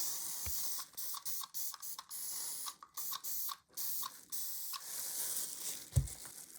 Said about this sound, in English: I sprayed cheap extra strong hold hairspray to act like an adhesive to hold the fine lighter scatter